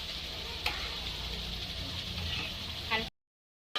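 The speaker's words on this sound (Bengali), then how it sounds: "এবার লবণটা দিয়ে ভালোভাবে কষিয়ে নেব" Masala with salt sizzling and being stirred in a frying pan while cooking mutton biryani, a steady close frying hiss with a few scraping strokes, ending in a brief silence.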